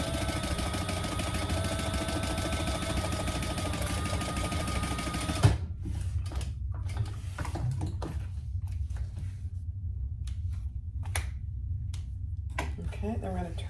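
An electric sewing machine runs steadily, sewing across the top seam allowance of a fabric divider pocket for a basket. A dense motor hum holds for about five seconds, then stops. Brief clicks and handling noises follow in near-quiet.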